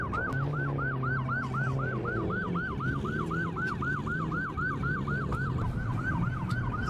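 A police siren at a busy night car meet wails in a fast, repeating yelp cycle, fairly close and continuous over a low rumble of idling engines and traffic.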